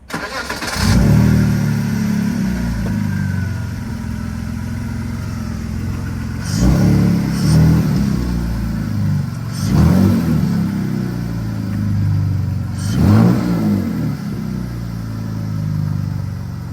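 A car engine idles and then revs hard four times in distinct bursts, each surge rising and falling back to a rumbling idle, loud and close.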